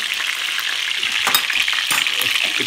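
Chicken pieces fry in a pan with a loud, steady sizzle and crackle, broken by a few scraping stir sounds, close by and with no talking.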